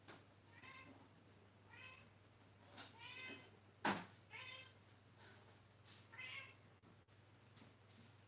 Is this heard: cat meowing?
yes